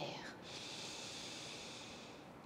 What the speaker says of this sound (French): Et inspire.